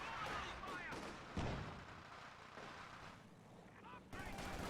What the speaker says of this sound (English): We got PPSHs forcing back the Volks Grenadier.